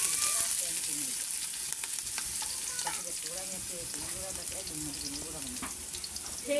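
Rohu fish frying in oil with onion and green chili in a pot on a village stove, giving a steady, dense sizzle with faint clinks of stirring throughout.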